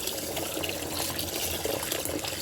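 Warm water pours steadily over rice set to soak for a home-cooked rice dish, a continuous close gushing splash with no pauses or talking.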